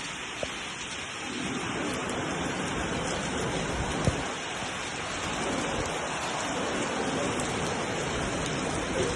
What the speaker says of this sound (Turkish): ne çok yağıyor yağmur